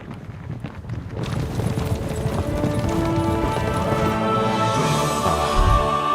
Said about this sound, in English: it sounds like a lot of horses